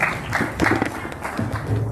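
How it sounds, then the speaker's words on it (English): At a spelling bee, the audience claps for two young contestants. The applause is brief, moderately loud and somewhat irregular, with a few voices mixed in. "let's give Ada and Madison a round of applause"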